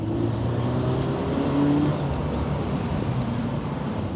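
A manual BMW Z3 engine drones with a raspy exhaust note, its pitch rising and falling steadily as the car drives along, close and continuous.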